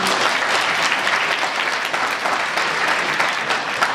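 An audience at a medical school talk gives steady, full applause for a speaker, with continuous dense clapping and no voices over it.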